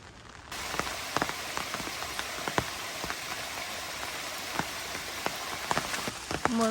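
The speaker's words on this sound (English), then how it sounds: "More rain." Rain falls steadily in the woods during a thunderstorm, a soft continuous patter with scattered sharper drops tapping close by, quiet and alone.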